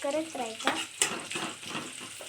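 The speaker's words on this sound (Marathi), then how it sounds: "बघा भात आता हे मिक्स करायचं, थोडा मिक्स करायचा." Fried rice with turmeric and spices stirred in a pan, steady sizzling with scraping strokes of a spoon against the metal and a sharp clink, a voice briefly audible at the start.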